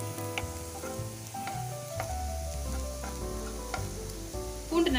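Garlic cloves sautéing in a pan for garlic pickle sizzle steadily and close up, with light stirring and scraping throughout and no talking.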